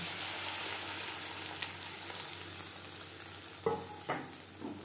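Chutney goes into a hot tempering with curry leaves, setting off a soft steady sizzle while a spoon stirs and scrapes the pan in a few distinct knocks near the end.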